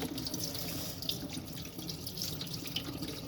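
Boiled onions are rinsed under a running tap, the water pouring and splashing steadily and fairly quietly, with small irregular spatters and no talking.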